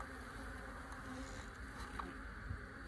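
Honeybees buzz steadily around an opened hive, a continuous low drone lasting throughout with no voices, a few faint knocks and rustles underneath.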